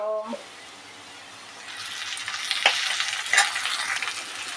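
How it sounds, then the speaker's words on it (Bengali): Masoor dal lentils are stirred and fried in a pan for puri filling, a soft sizzle rising after a quiet start, with scraping strokes from the spatula. "ডালটা এভাবে বেশ কিছুক্ষণ নেড়ে চেড়ে নিতে হবে, নিয়ে শুকনো করে নিতে হবে"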